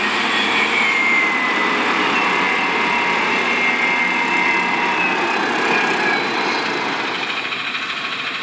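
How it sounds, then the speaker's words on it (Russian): A Kirovets K-4 tractor engine runs steadily during haylage harvesting, a loud continuous drone with a high whine that stays close throughout and eases slightly toward the end. "вот и приехал трактор Кировец К4"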